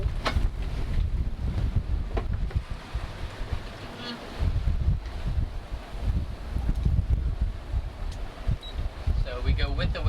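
Strong wind buffets the microphone aboard a sailboat in the Gulf of Tadjoura, Djibouti, with a steady roar and gusts mixed with water wash and some brief voice sounds.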